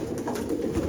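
Soft, low cooing from white-coated Hyderabadi pigeons at a loft setup, a faint continuous murmur over about a second.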